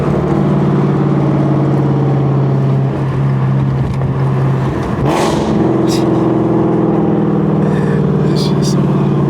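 A Shelby GT350R running on E85 fuel drones loudly at close range with a deep, burbling exhaust note that holds steady, while people talk over it.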